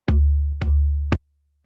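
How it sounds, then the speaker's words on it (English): Three deep, booming West African djembe bass strokes ring out alone, each sustaining with a resonant low tone before the next hit. "This is called the West African djembe drum,"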